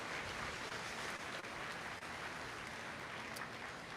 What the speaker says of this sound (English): We would be remiss if we didn't give them a big old round of applause for all of the effort that they have put in.